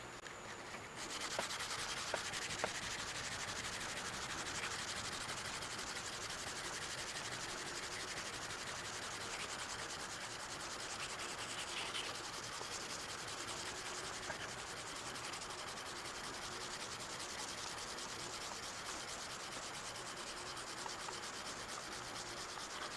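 Continuous close rubbing of 600 grit abrasive polishing a South Bend metal lathe saddle, a steady rhythmic scratchy hiss with a few faint taps.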